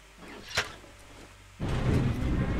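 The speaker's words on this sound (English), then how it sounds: "Oh, that just opened some doors." Doors open in the video game Metro: Last Light, a short mechanical clank followed by a loud sustained rumbling slide that carries on to the end of the short clip.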